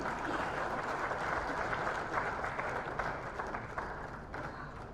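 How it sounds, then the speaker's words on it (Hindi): Sustained audience applause at the Rising Rajasthan investment summit in Jaisalmer, a dense wash of many hands clapping steadily for five seconds, with no voices over it. "जोरदार तालियां के लिए हो जाए।"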